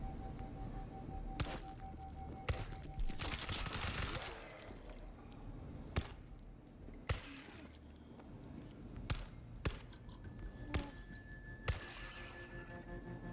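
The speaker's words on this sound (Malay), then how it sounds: "Tembakan luput semua ya." Gunfire in the World War Z video game, on insane mode, cracks out as sharp isolated shots and short bursts at irregular intervals over a faint, busy game background.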